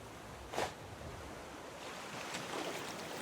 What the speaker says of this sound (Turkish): Bugün biraz hava dalgalı, deniz dalgalı bugün.